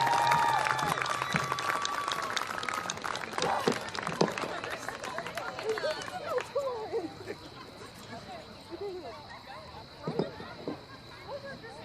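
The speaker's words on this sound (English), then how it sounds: "Let's have a final round of applause for all of our seniors." Applause for seniors at a Senior Night high school football game, scattered clapping and crowd noise across an outdoor stadium that fades over several seconds, with a faint tone and distant voices lingering.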